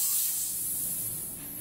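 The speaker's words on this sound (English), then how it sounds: "Take your Vassol purging tool, hold the lighter away from you so you don't spray it in your eyes." A steady, faint hiss of butane sprayed from a Zippo butane lighter insert by a purging tool, continuous and fading slightly toward the end, with no voices.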